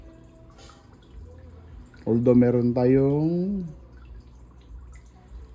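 A crayfish tank fountain drips water steadily back into the tank, a faint continuous patter that runs under a brief stretch of speech.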